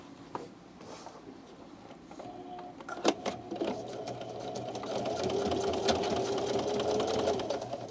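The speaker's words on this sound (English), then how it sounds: "This machine has no problem sewing through this much stuff" A sewing machine pushes through thick layers of material. It begins with scattered clicks and taps, then settles into a steady, close mechanical whir with rattling stitch ticks for several seconds before easing off.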